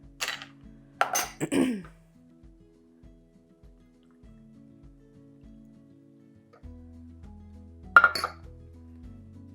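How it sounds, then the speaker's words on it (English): Ice cubes clink and rattle into a martini glass, a few sharp bright taps near the start and another at the end, over a quiet hum, with no voices. "couple little cubes to my martini. Just a couple to chill it down."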